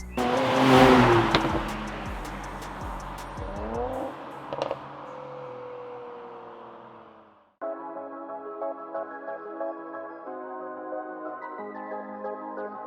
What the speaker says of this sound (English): if you're in an AMG and you do this, you get some really fun pops and bangs